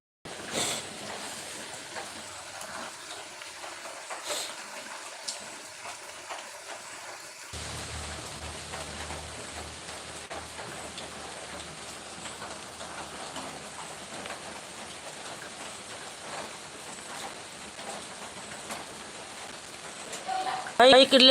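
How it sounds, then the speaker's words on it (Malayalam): Heavy rain falls steadily as a dense, even hiss throughout, with occasional voices talking over it. "നല്ല മഴയാണ് നല്ല മഴ"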